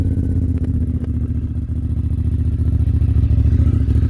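Honda Africa Twin 2021 motorcycle fitted with a full Aero titanium exhaust and no dB killer, idling with a steady low rumble and faint mechanical clatter, close and loud with no talk.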